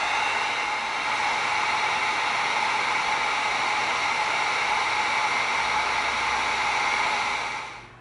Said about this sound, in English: Let's bring in our heat gun and let's seal this.